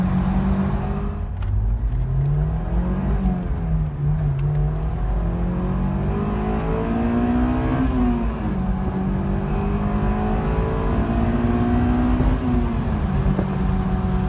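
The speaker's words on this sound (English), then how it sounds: "you're waiting for that VTEC to kick in. But I'm telling you right now, you don't wait long, and once it's there, it screams." A Honda S2000 with stock exhaust pulls hard through its gears, the engine note climbing and dropping with each shift and rising toward a high, loud wail.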